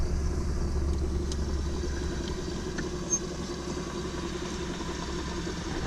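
An old Nissan R31 with a manual conversion idles with a low, steady rumble, with a few faint rattles and clicks over it.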